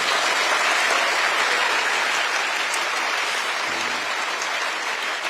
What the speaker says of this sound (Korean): 박수도 한번 하세요.